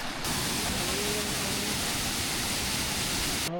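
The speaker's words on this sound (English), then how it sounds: "And then along a beautiful stream to a waterfall." Waterfall at the end of a stream in the Philippines, a dense steady rushing hiss of falling water that stays loud and unbroken, close to the listener, cutting off abruptly at the end.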